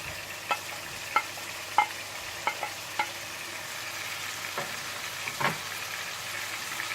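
Onions and green chilies stirred in a frying pan, a soft steady sizzle punctuated by about a dozen crisp spatula taps and scrapes, close and without talk.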